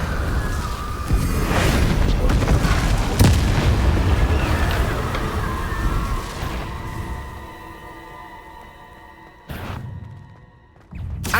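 Bombarda explosion spells in the video game Hogwarts Legacy: a dense run of loud booming blasts and crackling bursts, then a fading rumble and one more sharp blast near the end.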